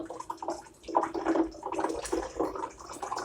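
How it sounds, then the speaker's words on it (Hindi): Water pours and flows between plastic bottles during a hydrostatic pressure demonstration, a steady splashing, gurgling stream close by with uneven surges and no talking. "ये पानी का फ्लो आपको दिखाई पड़ रहा होगा।"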